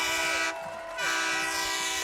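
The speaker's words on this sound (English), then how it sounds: "And the train horn." A train horn blares at a high school football game, a loud sustained multi-tone blast that dips briefly and resumes, with crowd noise faintly underneath.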